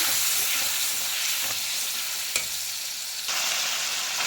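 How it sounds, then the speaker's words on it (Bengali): Pre-mixed spice masala fries and is stirred in a pan, giving a steady close hiss and sizzle with occasional scraping and clinking of the spoon, and the sizzle swells louder near the end. "মশলাটা আমি দিয়ে দিচ্ছি। একটু ভালো করে নাড়াচাড়া করে নেব।"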